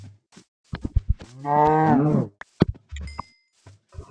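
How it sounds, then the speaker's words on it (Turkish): Cattle low in a survival video game played on hardcore mode at dusk, one long, loud, near moo in the middle amid short clicks and thumps of game action, with no voices. "Etrafta bir sürü inek var."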